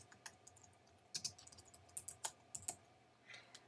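Keys tapped on a computer keyboard in short bursts of close, crisp clicks with brief pauses between strokes, quiet and with no talking.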